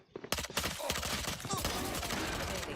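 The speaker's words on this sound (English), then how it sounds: "Here we hear gunfire." Rapid bursts of gunfire in Valorant crackle in quick succession, loud and dense, blending into a sustained rattle of shots.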